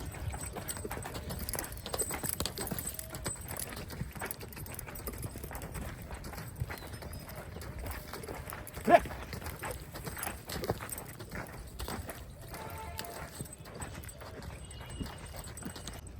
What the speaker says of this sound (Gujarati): હવે આપણે એને કેન્ટરમાં લઈએ